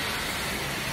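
Steady rain falls outdoors beside a church, a dense, even hiss with no voices or other sounds over it.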